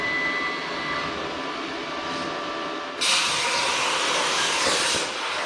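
A CNC plasma table cuts steel plate in a metal shop. A loud steady hiss and roar runs throughout and jumps abruptly louder and brighter midway as the cut starts, continuing as a harsh broadband rush with no talk.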